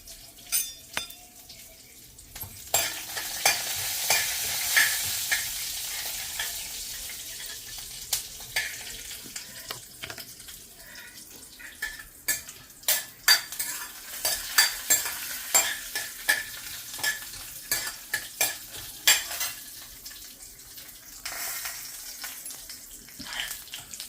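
Garlic and spices fry in hot oil in a pan, a hissing sizzle that swells and fades while a spoon stirs and scrapes in quick, uneven bursts. No voices are heard.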